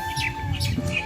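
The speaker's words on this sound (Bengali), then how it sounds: "দেখো কতগুলো পায়রা আমাদের" A flock of pigeons gathers for scattered rice, giving a few short chirps and calls close by over a low background murmur, all within about a second.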